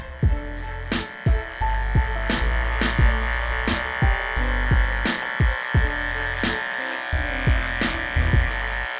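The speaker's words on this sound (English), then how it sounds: "we're going to come in with our Andis trimmer and stay underneath the 4-0 line to make the haircut even balder" An Andis electric hair trimmer buzzes during a close haircut, a continuous mechanical hum broken by short clicks and pauses as the clipper is moved and repositioned, near and steady throughout.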